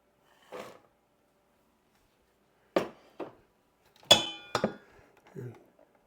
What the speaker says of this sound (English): I'm going to dump in my pecans.